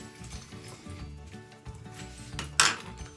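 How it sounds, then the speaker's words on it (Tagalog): A knife slices onions on a cutting board, giving a quick series of soft, rhythmic taps and chops close by, with one sharper knock near the end. "Hiwain na natin yung onions."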